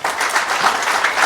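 Applause from an audience at a business training seminar, with dense, steady clapping throughout the short stretch.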